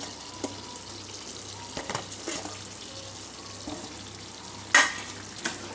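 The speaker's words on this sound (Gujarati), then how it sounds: "એને પણ આપણે ગ્રેવી સાથે મિક્સ કરી દઈશું" Paneer pieces being stirred into a Shahi Paneer gravy over a low flame, a soft simmering hiss with occasional spoon taps and one sharp clink against the pan, close and with no talking.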